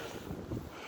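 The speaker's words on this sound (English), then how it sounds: "Oh, here comes another gust." A brief, bitter winter wind gust buffets the microphone outdoors, giving a rough, loud rumbling roar with no talk.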